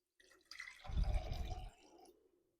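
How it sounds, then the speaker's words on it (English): Distilled water pours into a small jar as a DIY brush cleaner is mixed, a brief splashing, trickling fill lasting about a second, close and fairly loud, with softer drips before and after. "to that we're going to add 1 cup of the distilled water"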